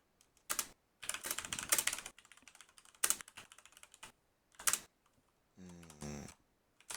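Typing on a computer keyboard, close and quiet, in irregular bursts of rapid key clicks separated by pauses, with no talk.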